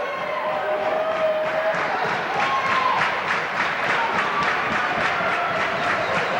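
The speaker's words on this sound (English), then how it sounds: "Crowd getting into it now." Crowd at a 1985-86 college basketball district semifinal game, Waynesburg against St. Vincent, cheering and applauding steadily throughout, a dense sustained roar with clapping at moderate distance.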